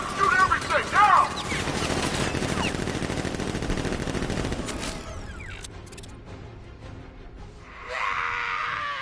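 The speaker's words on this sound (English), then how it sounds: "Guard! Open fire! Shoot everything! Now!" Guards open fire with guns in a PS4 video game, a dense rattle of rapid gunfire with shouting voices over it, thinning out midway before a hissing burst near the end.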